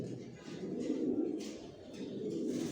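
Johnson-line racing pigeons coo inside a loft in a soft, continuous low murmur that swells and fades at close range, with faint rustling around them.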